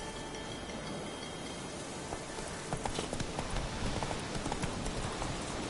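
Hooves of Roach, Geralt's horse in The Witcher video game, clip-clop steadily at close range, the footfalls growing a little louder and busier midway through, with no one speaking.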